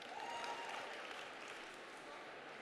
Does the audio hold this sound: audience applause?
yes